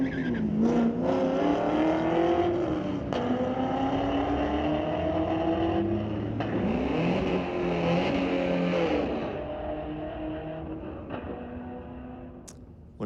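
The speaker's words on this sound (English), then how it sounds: "That was such a cool sounding Corvette." A Corvette accelerates hard down a drag strip at a street-legal drag racing night, its loud engine note rising through several gear changes and then fading as the car pulls away into the distance.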